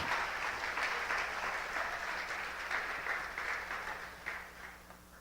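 A church congregation applauds the Lord during a Portuguese-language sermon, steady broadband clapping filling the room for several seconds, fairly even with slight swells and no voices on top.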